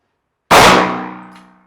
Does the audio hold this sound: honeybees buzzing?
no